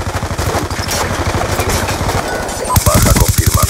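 Rapid automatic gunfire from the video game Black Ops II, dense bursts of shots rattling continuously and loud, growing heavier toward the end with sharper cracks layered over the steady firing.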